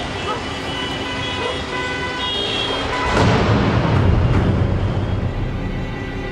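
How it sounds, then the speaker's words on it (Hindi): A car horn honks very hard amid busy Mumbai traffic noise, with engine rumble and a louder surge of road noise partway through. "मैंने हॉर्न बजाया, बहुत जोर से हॉर्न बजाया"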